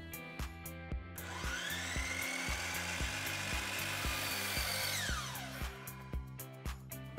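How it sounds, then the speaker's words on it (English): A miter saw set to 45 degrees cuts wooden trim for a rustic picture frame: the motor spins up to a loud, sustained whine, then winds down, with rapid ticking clicks running throughout. "you need to turn the saw to the other 45 degrees, bring the trim down to your mark, line up the blade with the mark"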